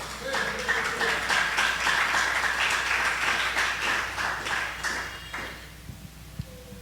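Church congregation clapping in praise during a Spanish-language sermon, a dense round of hands sustained for several seconds before fading, with faint voices mixed in.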